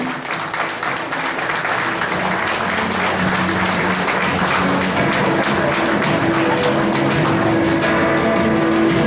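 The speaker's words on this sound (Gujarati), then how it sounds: "જોરદાર તાળી થઈ જાય." Loud, dense applause from an audience at a women's award ceremony held by a charitable trust, continuous crowd clapping sustained for the full stretch.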